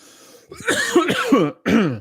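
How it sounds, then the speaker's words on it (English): Someone clears their throat up close with a few rough, gravelly rasps, the last one a short separate burst. "Clearing my throat."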